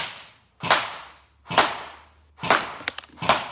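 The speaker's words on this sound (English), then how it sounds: "Now with the sound of airsoft rifles going off" Airsoft rifles firing, four sharp cracking shots spaced under a second apart, each with a quick bright snap and short decay, fairly loud with no talk.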